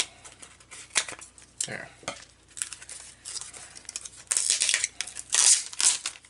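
Scissors cutting through heavy packing tape on a mailed package of football collectibles, several close crinkling snips and rustles with a brief spoken word near the end.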